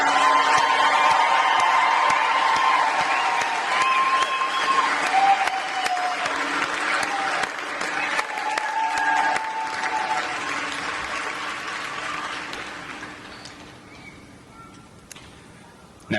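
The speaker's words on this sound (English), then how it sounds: "Let's all give our Gator MTIs our appreciation and a round of applause." A crowd at a military training squadron coin and retreat ceremony applauds its military training instructors. The clapping is sustained and dense, then slowly thins and fades toward the end.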